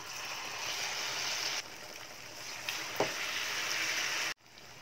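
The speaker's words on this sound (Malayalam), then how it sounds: "ക്യാബേജ് റോൾ എടുത്ത് നമ്മുടെ മൈദമാവിലൊന്ന് മുക്കി നമ്മൾ നേരെ എണ്ണയിലേക്ക് ചേർത്ത് കൊടുക്കുക" Cabbage rolls dipped in maida batter fry in hot oil, making a steady, fairly quiet bubbling sizzle with a brief clatter partway through, before it cuts out abruptly near the end.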